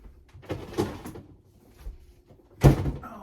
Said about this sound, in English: stop slamming the door